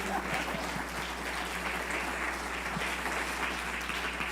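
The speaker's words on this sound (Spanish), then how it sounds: "pues denle un mejor aplauso a Dios" A church congregation claps together in a room, a dense, even wash of applause held at moderate loudness under a low steady hum, with no words spoken.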